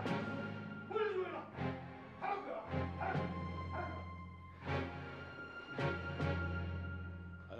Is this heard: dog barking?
yes